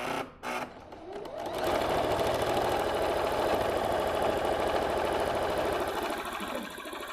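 A sewing machine stitches a front pleat on a tunic, running steadily and close for several seconds after a few brief handling sounds at the start.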